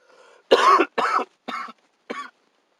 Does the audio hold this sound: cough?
yes